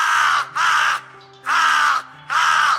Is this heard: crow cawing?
yes